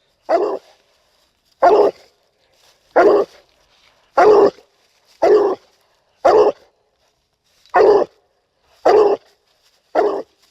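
A coonhound barks at a treed raccoon at night, nine loud, evenly spaced barks with short gaps, close and clear with no other sound between.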